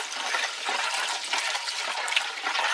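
Water runs while a jug is rinsed, making a steady, close rushing and splashing that stays even throughout with no talking.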